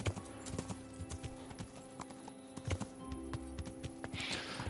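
Horse hooves clip-clop steadily at a walking pace in the medieval role-playing game Kingdom Come, the repeated clear strikes sitting over a low ambient game hum and faint background tones.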